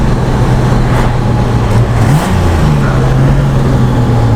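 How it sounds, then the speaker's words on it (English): A Reliant car being driven after a manual steering conversion, its engine humming steadily and loudly from inside the cabin with slight changes in pitch as revs shift, no speech over it. "Car's still running gorgeous though."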